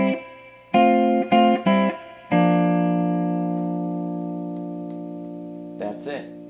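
An electric guitar plays a verse section: a few short chord stabs, then one chord left ringing and slowly fading, close and alone, with a couple of soft picked notes at the end.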